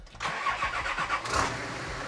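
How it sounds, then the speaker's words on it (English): A car engine cranks over with the ignition and catches, a few starter pulses followed by the engine firing and settling into a running note, close and clear with no talk. "So let's turn the ignition on."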